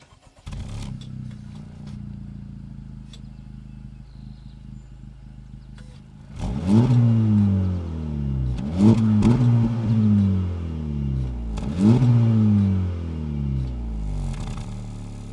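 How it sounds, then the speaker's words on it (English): A 2024 Honda Civic Type R with an active triple-outlet exhaust idles steadily, then revs sharply three times, each blip rising loud and close before falling back to a deep idle, with no talking. "It's also an active exhaust system, so let's go ahead and take a listen."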